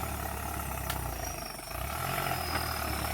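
A tractor engine idles nearby in a steady, low continuous rumble with a faint high whine, running alone without any voices for the full few seconds.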